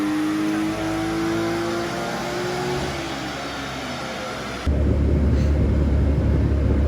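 Turbocharged drift car engine at a drift event, a sustained loud roar with a falling revving pitch, then a sudden jump to heavier rumbling noise near the end.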